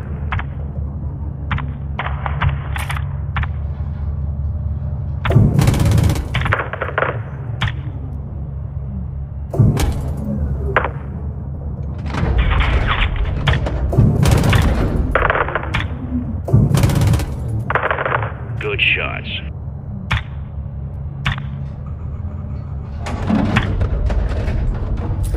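A gunship's 25mm cannon fires in the video game Call of Duty Modern Warfare 2, heavy thudding rounds that come in separate bursts with gaps between them, loud and punchy.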